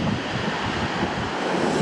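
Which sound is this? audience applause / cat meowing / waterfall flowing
waterfall flowing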